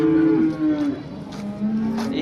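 Cows at the Modnimb cattle market give a long, close, loud moo followed by a second drawn-out moo, with faint crowd murmur behind.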